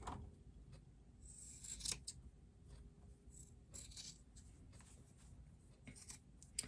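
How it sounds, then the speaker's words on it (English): Sharp scissors snip fabric seam allowance at a corner while sewing a microwaveable bowl cozy, several quick close cuts in an irregular rhythm, quiet with no talking. "So snipping that corner there."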